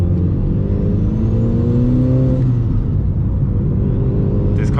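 Mitsubishi Evo 8 engine heard from inside the car, a loud steady drone that climbs in pitch, then drops and rises again as revs change, with a brief sharp sound at the end.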